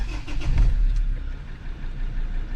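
A race car engine cranking and catching, a close, loud low rumble that swells early and then settles into a rough idle, with no talking over it.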